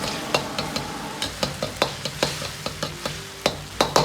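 Tomatoes stir-fried over medium heat crackle under a steady run of sharp spatula taps against the wok, evenly paced and close, with no speech.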